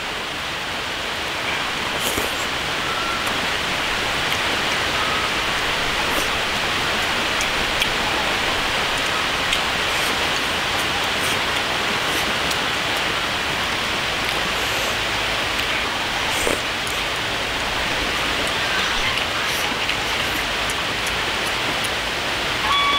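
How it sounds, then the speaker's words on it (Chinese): Rain falls steadily, a continuous close wash of patter with occasional sharper drops standing out, unbroken for the whole stretch and with no voices. "我们这边天天下雨。"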